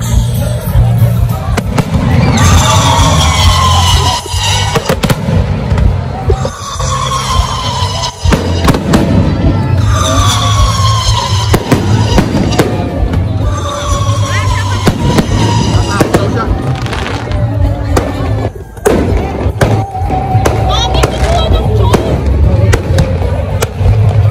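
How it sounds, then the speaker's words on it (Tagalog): Chinese New Year fireworks at Mall of Asia bursting and crackling repeatedly, with whistling rises before several booms and a crowd murmuring underneath throughout. "Para manood ng fireworks!"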